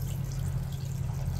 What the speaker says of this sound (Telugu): నెక్స్ట్ జస్ట్ ఇలా రన్నింగ్ వాటర్ తో క్లీన్ చేసుకుంటే ఈజీగానే అయిపోతుంది